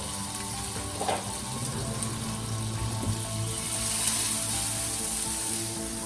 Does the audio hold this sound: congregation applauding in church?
no